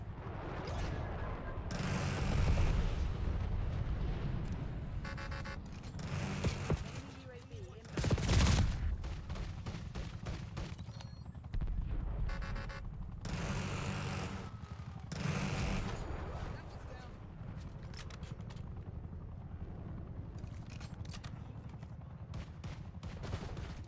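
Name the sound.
gunfire from a gun in a video game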